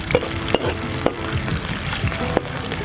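Ginger garlic paste sizzles and crackles steadily in hot ghee, with a few sharp clicks of a utensil stirring the pan.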